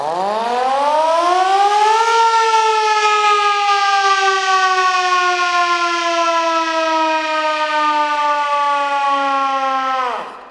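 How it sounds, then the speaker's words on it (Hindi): An emergency siren at the Golra Sharif Railway Museum in Islamabad winds up over about two seconds, then holds a loud, steady wail that sags slightly in pitch before cutting off abruptly, with no talk over it. "नहीं ये और ये इमरजेंसी सायरन।"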